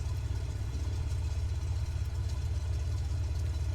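A Cessna 206 engine warming up in a flight simulator, a steady low idling drone that holds evenly and fairly loud throughout with no talk over it.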